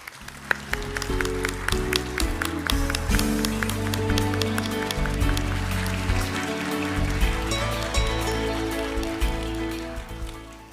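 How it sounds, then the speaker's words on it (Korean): A hall audience at Pusan National University's inauguration ceremony for its 21st president claps warmly in sustained, dense applause over steady tonal music that fills the whole stretch. "뜨거운 박수로 환영해 주시기 바랍니다"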